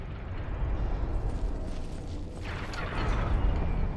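A pressure plate trap triggers in Dark Souls Remastered, giving a loud, rumbling mechanical clank with a rushing burst in the second half, over continuous game background noise.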